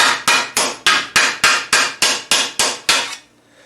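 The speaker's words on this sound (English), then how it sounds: "But mostly I'm just going to hammer on it" Metal armour greaves are struck by a hammer in an even rhythm, eleven sharp ringing blows close up, each fading fast, ending in silence.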